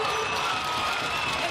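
Arena crowd at a professional basketball game, Manawatu Jets v Auckland Tuatara, cheering and making noise for a player, a steady dense roar of many voices without a break.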